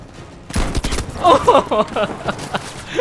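Rapid sniper rifle fire in Battlefield V, several loud, sharp shots in quick succession with ringing echoes and a voice talking faintly underneath.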